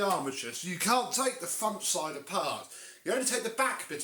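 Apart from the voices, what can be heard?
No everyday noises stand out.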